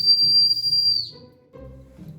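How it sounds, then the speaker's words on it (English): An antique tin peacock whistle with a rotating wheel gives one sustained, shrill high-pitched tone for about a second, then cuts off, leaving low background rumble. "Next, we are going to see a peacock whistle."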